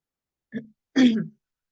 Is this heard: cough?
yes